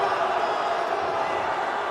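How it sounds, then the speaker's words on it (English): Arena crowd at a live professional wrestling event, a dense steady roar of many voices reacting in disapproval, loud and continuous without a break. "The crowd does not approve."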